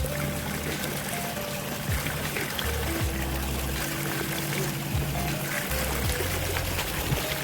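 Spring water gushes from a tree stump in a steady, unbroken rush that stays close and fairly loud throughout, with no voices over it.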